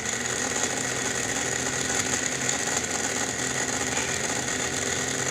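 Air conditioner with a repaired compressor and fast blower running, a loud steady mechanical whir and hum with a faint rattling texture, continuous and close throughout with no talking.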